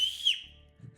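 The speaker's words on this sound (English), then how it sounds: "you can use whistle to startle them and flush them from hiding" A sharp, high hand-over-mouth whistle used to flush pheasants in a hunting game, one loud rising-then-falling blast lasting about a third of a second, followed by faint low rumble.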